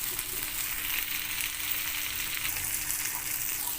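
Chicken pieces frying in oil in a pan alongside vegetables, a steady close hissing sizzle with faint crackles, continuous and without talk.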